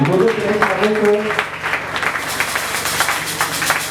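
A congregation applauds during a church service, a broad wash of clapping running throughout, with a voice speaking over it at the start.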